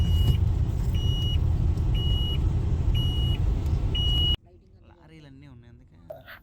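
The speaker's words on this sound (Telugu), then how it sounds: "ట్రాఫిక్ జామ్ మళ్ళీ" Heavy traffic jam crowded with motorbikes: loud, dense engine rumble with a repeating high beep roughly once a second, cutting off abruptly to a much quieter stretch with faint voices near the end.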